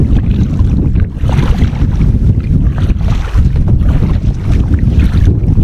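Strong wind buffets the microphone on the River Slea during a day canoe trip, a loud continuous roar with gusting surges and no talking.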